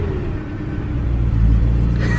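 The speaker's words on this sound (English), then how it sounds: "I know you guys want to hear that V8 in action" A BMW M3 E92 V8 engine idling and revving, a deep, loud rumble that swells slightly toward the end, heard close by with no talking.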